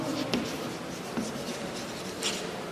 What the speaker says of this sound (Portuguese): vou escrever aqui, a desnaturação